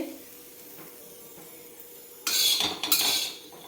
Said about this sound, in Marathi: ह्याला छान मी दोन मिनिट भाजून घेते